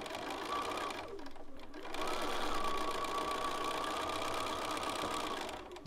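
A sewing machine stitches in two runs, a brief burst that stops for a moment and then a longer steady whirring hum at moderate loudness, close by.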